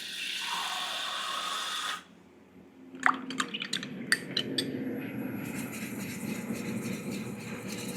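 Water runs from a tap, then a thin stream drips and splashes as more water is added to a pan of thick gravy for a roast turkey dinner, several close, distinct plinks settling into a steady trickle.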